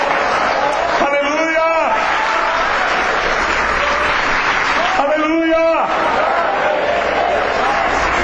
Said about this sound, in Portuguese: A igreja aplaude e glorifica Jesus